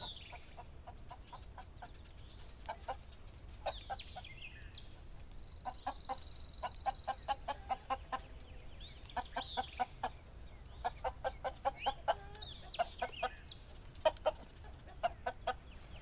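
Chickens cluck in short repeated bursts, several birds close by in a quiet farmyard setting with no talking.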